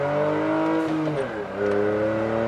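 A Volkswagen Up TSI, original and running on gasoline, accelerates hard from first gear on a straight, its engine note rising steadily with a gear-change dip near the middle before climbing again, loud and close.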